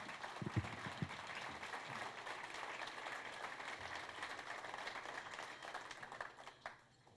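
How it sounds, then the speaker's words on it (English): A graduation audience applauds steadily throughout, a broad sustained wash of clapping from a large crowd that tapers off at the very end. "let's give ourselves a big round of applause."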